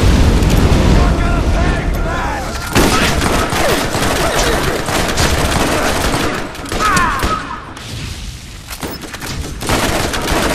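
Grenade explosions in the Borderlands video game, dense overlapping booms and gunfire sustained throughout, loud and close with brief crackling bursts, while a voice talks over the chaos.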